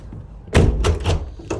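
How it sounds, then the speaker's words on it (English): Interior door in a rented flat being opened and shut, a loud close thunk followed by a couple of lighter knocks and rattles, alone with no talk. "The door open and close is fine."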